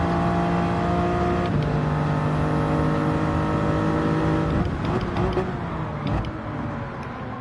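A Toyota Supra race car engine in Gran Turismo 7 drones loud and steady, holding high revs with a sustained whine that shifts pitch slightly near the end as the car works through a corner.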